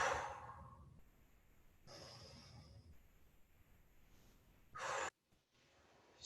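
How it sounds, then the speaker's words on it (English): Deep, loud breaths during a ViPR workout, a few long heavy inhales and exhales close to the mic with pauses between, followed by a sharp short burst of breath. "Let's go 2 more big breaths."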